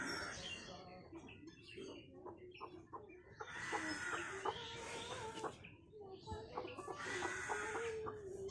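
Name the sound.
hens clucking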